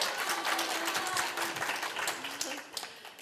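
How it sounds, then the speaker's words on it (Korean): Audience applause at a Korean regional forum, steady dense clapping throughout with some talk and crowd murmur mixed in, moderately loud and continuous. "큰 박수 부탁드립니다"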